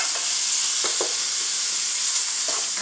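Garlic cloves and mandolin-sliced onions sizzling in butter on a stovetop, a steady close frying hiss with a few soft stirring clicks, no talking.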